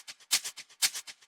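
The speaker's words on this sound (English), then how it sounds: "Get a shaker loop that you enjoy and have a slight organic feel." A shaker loop with a slightly organic feel for an Afro House track plays a crisp, bright rhythmic pattern of short swishes with accented pulses, alone and fairly quiet.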